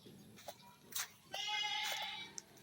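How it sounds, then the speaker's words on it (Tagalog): Goats on a farm bleat a few times, with one longer wavering bleat and shorter calls around it, faint and somewhat distant over quiet outdoor background. "Naku po mga kambing."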